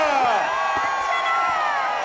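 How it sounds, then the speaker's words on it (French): Cartoon audience in an animated show cheering and whooping loudly, a dense continuous crowd roar with rising shouts and whistles, sustained at full volume throughout. "Et on applaudit Angela."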